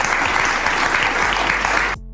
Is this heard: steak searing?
no